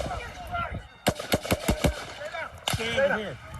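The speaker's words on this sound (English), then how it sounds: "The sniper appears momentarily startled by the gunfire" Shots ring out at an outdoor political rally: a rapid burst of about six sharp, loud cracks, then another single report, followed by frantic shouting voices.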